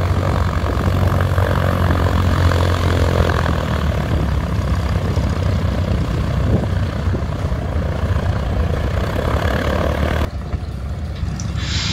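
A propeller aircraft at Duxford Airfield drones loudly and steadily nearby, a constant engine roar that drops slightly in level near the end, with no talking.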